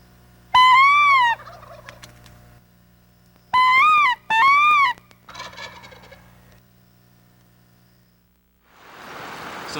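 Wild turkey gobblers on a hunt sound off in three loud, close gobbles, one long call followed by two quick ones, with faint rustling after and a burst of broadband noise at the end.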